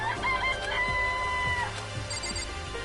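Chickens clucking and crowing in the Danganronpa Trigger Happy Havoc game, layered over steady game music with tonal chimes, a dense, continuous barnyard chorus for a few seconds with no talking.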